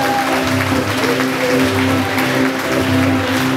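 An audience at a gathering claps for the people who prepared the meal, a dense, continuous round of applause at fairly loud level over faint background music, with no speech on top.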